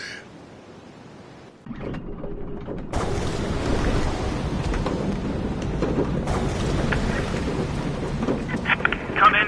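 Thunderstorm in the video game Fisherman's Tale: a soft, quiet start that swells into steady heavy rain with deep rumbling thunder, rising louder and fuller partway through and holding as a dense, continuous roar.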